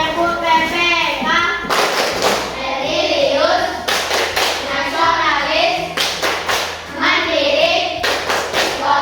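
Schoolchildren stand in an Indonesian classroom, clapping in sharp, steady bursts while chanting together in loud unison. The claps fall in a repeating rhythm between the chanted phrases.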